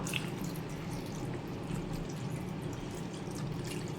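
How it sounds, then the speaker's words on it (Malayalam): A steady stream of water pours into a pot of prawn and tomato curry, a continuous close splashing rush with no talking. "ഇനി ഇതിലേക്ക് നമുക്ക് കുറച്ച് വെള്ളം ഒഴിച്ചു കൊടുക്കാം"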